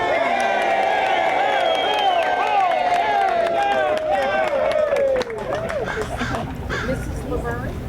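A crowd of wedding guests cheers and shouts loudly close by, with whoops and voices overlapping, then fades into general chatter.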